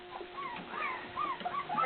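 A puppy whimpers and yips in short, high, wavering cries, several small bursts close by, with no talk over them.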